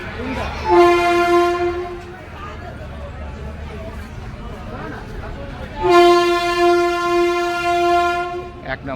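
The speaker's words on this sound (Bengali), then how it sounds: "1 নম্বরে ট্রেন ঢুকছে।" A train pulls into a station platform on Eastern Railway, its horn sounding in two long, loud blasts over the rumble of the station, with people talking nearby.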